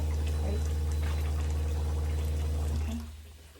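Warm water pouring steadily into a cooking pot for a pickled cabbage and pork rib stew, a continuous close splashing stream lasting about three seconds before it tapers off.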